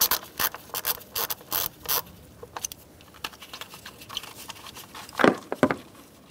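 A ratchet with a 10 mm socket undoes a bolt on a 2010-2013 Kia Soul 2.0L four-cylinder, giving rapid close clicking in short bursts, then sparser light clatter and a couple of sharper knocks.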